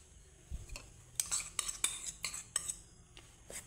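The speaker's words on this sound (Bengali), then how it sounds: "দইয়ের সাথে আমি সুন্দর করে মিক্স করে নেব" Sour yogurt being stirred in a large bowl with a spoon, giving soft scraping and clinking taps spread over a few seconds, close by and fairly quiet, with no talking.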